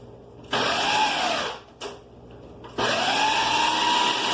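A kitchen blender whirs through quinoa pancake batter in loud bursts, spinning up, stopping briefly, then revving again with a rising motor pitch, close by.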